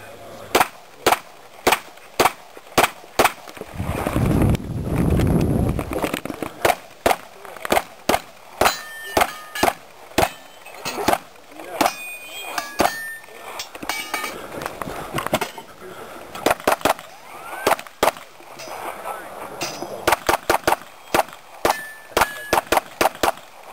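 Sharp pistol and rifle shots ring out at a two-gun shooting match at Gonzaga University, dozens of loud, closely spaced cracks in quick strings with brief pauses, some steel targets clanging, and people talking between strings.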